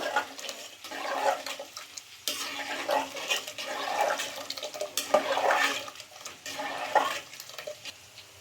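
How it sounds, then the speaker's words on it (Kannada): Water splashes and pours steadily into a pot of chickpea bassaru, with gurgling bursts and a continuous wet rush, fairly close and moderately loud, no voices. "ಇನ್ನೊಂದು ಸ್ವಲ್ಪ ನೀರು ಹಾಕ್ಕೊಂತಿದ್ದೀವಿ."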